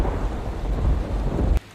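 A thunderstorm rumbles with a deep, loud roll of thunder over steady rain. The storm cuts off abruptly near the end, with no voices.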